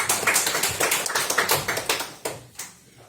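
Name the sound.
audience applause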